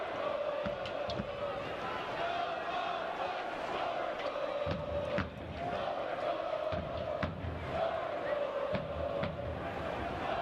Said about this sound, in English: the record-setting crowd, picturesque. They have found their voice in the second half.